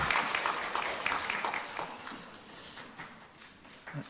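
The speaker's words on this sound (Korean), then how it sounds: "아이들 나가는데 다시 한번 격려 박수 해주세요." A church congregation claps in encouragement as children leave during a Sunday service, an uneven patter of applause that swells and fades with some faint murmuring and shuffling underneath.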